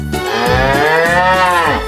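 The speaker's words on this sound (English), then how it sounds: "C is for cow, cow." A cow lets out a single loud, close moo in a children's alphabet phonics song, a sustained rising-and-falling bellow lasting about two seconds, heard on its own.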